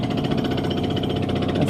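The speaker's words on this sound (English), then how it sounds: "That's the jackhammer." A jackhammer breaks pavement outside a living room window, producing a continuous rapid pounding rattle that holds steady and fairly loud throughout.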